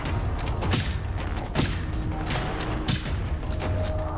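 A fusillade of gunfire in the video game Generation Zero: repeated rifle shots crack at a steady, loud pace against a constant background rumble, with no talking.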